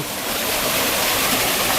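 Chan Ta Thian waterfall in Bang Phra, Si Racha, Chonburi, its stream rushing as a steady, loud, broadband wash of flowing water, continuous throughout with no voices.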